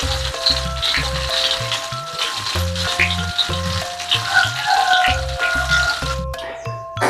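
Hot oil sizzles steadily in a frying pan as it heats for frying salted fish, a continuous close hiss that runs the whole time beneath melodic background music.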